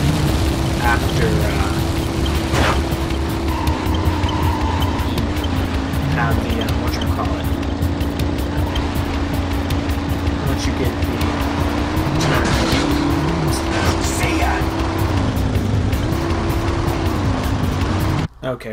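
Engines of race vehicles in a Jak 3 video game race, a steady droning hum with wavering pitch and occasional tire squeals, running continuously throughout with a person talking over it.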